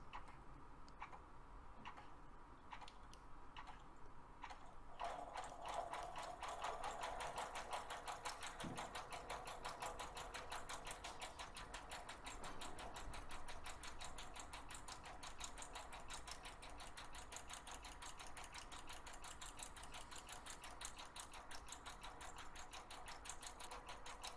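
Sewing machine running a rolled hem with presser foot G on 100% silk charmeuse, a faint, rapid, even ticking that quickens after a few seconds and stays steady throughout.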